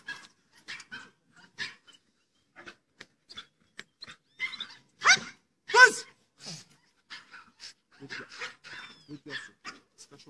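A dog gives a scattered series of short yips and barks, with a couple of louder, fuller barks in the middle, all separated by silence.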